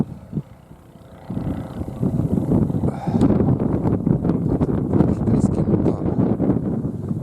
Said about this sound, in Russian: Китайский мотор.